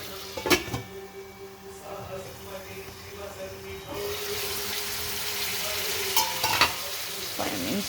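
Ginger chutney cooking in a pan, a steady sizzle with scraping stirring strokes and a few clinks, close and moderately loud, with a voice speaking briefly over it.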